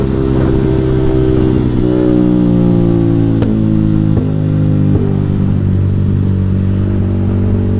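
A motorcycle fitted with a JB159 trioval exhaust idles and revs up close, its deep burbling drone loud and continuous, with a few quick throttle blips and a gradual drop in pitch.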